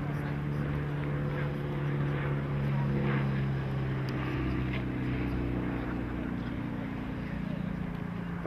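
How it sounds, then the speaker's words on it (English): A de Havilland Gipsy Moth biplane engine fitted with a silencer drones steadily at a grass airstrip fly-in, a muffled, even hum from nearby lasting the whole stretch, with faint wind underneath. "That engine sounds different. It's actually got a better silencer."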